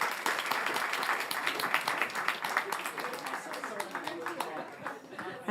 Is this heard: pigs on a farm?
no